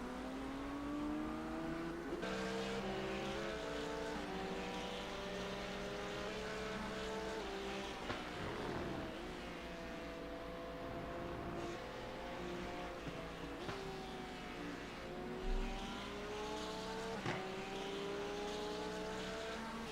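Race cars, including a Ford and a Porsche, in iRacing, engines roaring and shifting pitch up and down as they pass, a continuous layered drone throughout with no talking.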